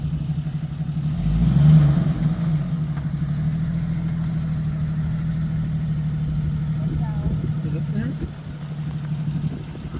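A Jeep engine idles steadily, close and loud, as the vehicle is pulled out of four-wheel drive, with a brief rise in revs early and a slight drop near the end.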